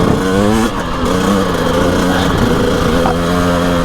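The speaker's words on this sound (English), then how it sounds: "this is where you can actually make the bike sing a bit more" A motorcycle engine runs loud and close while being ridden, holding a steady rough drone with slight pitch shifts as the revs rise and fall, with no speech.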